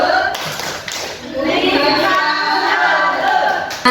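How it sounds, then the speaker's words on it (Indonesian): Audience clapping hands in a room, a steady wash of many hands applauding together, fairly loud and sustained, with a voice speaking briefly at the start. "Jadi tepuk tangan dulu, tepuk tangan dulu."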